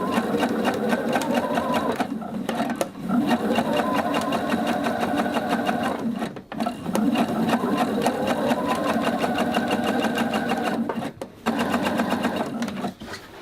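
A sewing machine stitches a plush pumpkin in fast, rapid-fire bursts of mechanical whirring, the motor pausing briefly a few times between runs, close and fairly loud.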